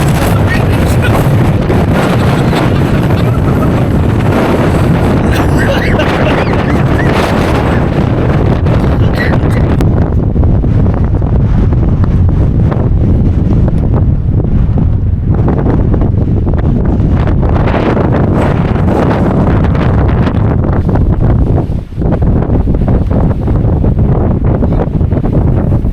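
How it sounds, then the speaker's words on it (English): Strong storm wind on the Antrim coast batters the microphone in a constant loud roaring rush with heavy buffeting, never easing across the whole stretch. "It's very fucking windy out here. We're in the middle of a storm"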